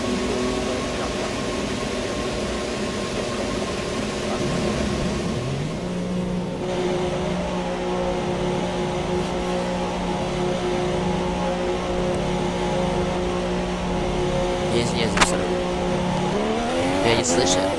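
Race car engine in F1 2017 lapping a track, a steady droning note that shifts pitch as gears change, with a brief sharp squeal near the end and a voice talking over it throughout.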